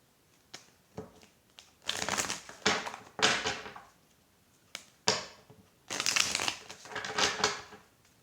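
An oracle card deck is shuffled at close range, in several separate bursts of riffling and papery shuffling with short quiet gaps between them, no talking over it.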